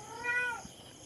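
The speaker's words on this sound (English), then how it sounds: "as you can probably hear, I don't have a quiet cat." A house cat gives a single drawn-out meow, close and fairly clear, rising and then falling over about half a second before a quiet room tone.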